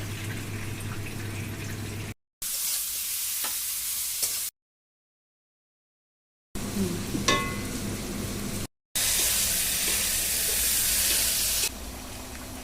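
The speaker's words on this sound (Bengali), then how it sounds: "ইলিশ মাছগুলো ভাজা হয়ে গিয়েছে এখন তুলে নিচ্ছে" Hilsa fish frying in hot oil give a close, steady sizzle heard in several separate stretches broken by abrupt silent gaps, with a few faint clinks and scrapes mixed in.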